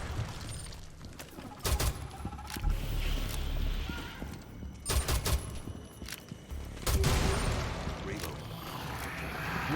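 Bursts of automatic gunfire in the video game Rainbow Six Extraction, several loud volleys with brief gaps and a steady background hum, voices talking over the action.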